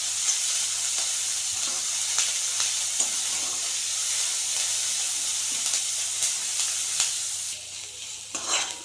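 Onions sauté in a pan with a little salt, giving a steady, close sizzle and hiss with occasional soft scrapes of stirring. It continues evenly and eases slightly near the end, with no talking over it.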